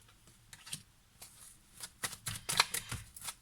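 Tarot cards shuffled by hand during a reading, soft quiet riffles and slaps in irregular bursts that grow busier and louder toward the end, close and alone without talk.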